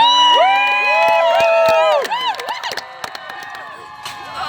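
Spectators at a medieval festival joust cheer loudly, with high whoops and sustained shouts rising together, then breaking into scattered yells and claps as the noise tapers off.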